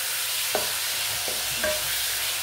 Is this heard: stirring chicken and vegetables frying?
yes